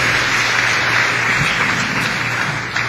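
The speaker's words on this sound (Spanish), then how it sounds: "Denle un gran aplauso al Señor" Church congregation applauding during a Spanish-language service, a dense, continuous wash of clapping under a low steady hum, loud and close throughout.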